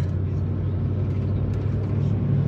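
A Jeep engine rumbles low and steady, close by, while it tows a Ford down the road, a continuous heavy drone without speech.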